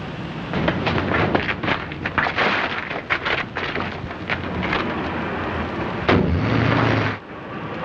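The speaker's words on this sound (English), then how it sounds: "Explosion in 93 Madeira Drive." Explosion sound effect from a 1938 mystery thriller film, a dense booming, crackling blast rolling on for several seconds, with a sharper burst near the end before it cuts off.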